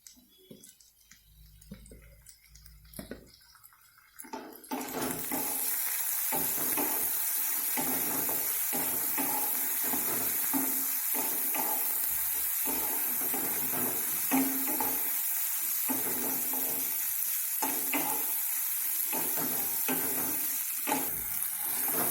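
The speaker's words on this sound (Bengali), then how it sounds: "আলুটা হালকা ভাজা হয়ে এসেছে, এবার আমি এর মধ্যে টমেটো আর কাঁচা লঙ্কা অ্যাড করছি।" Potatoes fry in a pan with tomato and green chili tossed in: after a few quiet seconds of handling, a loud, steady sizzle starts and holds, broken by repeated scraping stirs.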